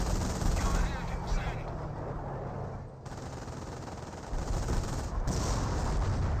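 Dense rattling gunfire and heavy 25-pounder artillery barrages from the video game Company of Heroes roar continuously and loudly, dipping briefly midway, with battle noise layered throughout.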